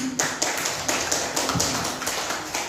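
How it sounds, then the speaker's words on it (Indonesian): Hands clap in a loose, uneven rhythm for a teacher at an Indonesian teacher-training session. The sharp slaps repeat briskly and fairly close over a steady background hum. "Tepuk tangan untuk Ibu Mimin"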